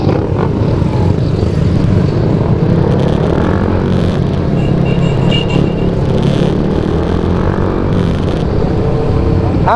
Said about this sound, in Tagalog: gamit nga pala nating motor is yung sniper ni Niel